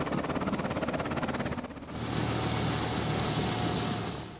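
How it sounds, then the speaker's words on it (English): Helicopter rotor thudding in the military strategy game Afghanistan '11: a rhythmic chop for under two seconds, then a steady loud engine drone with a high whine that holds to the end. "Gotta love helicopters."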